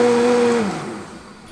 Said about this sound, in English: I'm going to blend it and puree it in the blender